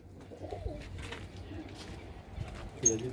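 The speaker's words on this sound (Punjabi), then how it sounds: "ਐ ਲਓ ਵੀ ਮਿੱਤਰੋ ਇਹ ਆ ਕਬੂਤਰੀਆਂ" Female pigeons in a loft give soft, low cooing in short repeated phrases amid a shuffling background, while someone talks faintly over them.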